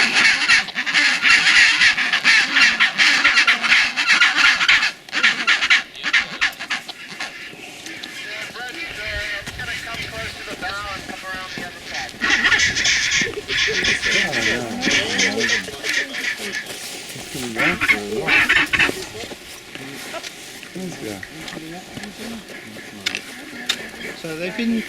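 A large penguin and seabird colony on Halfmoon Island, Antarctica, keeps up loud honking, braying calls in dense overlapping bursts, some near and some farther off, with a person talking at times among them.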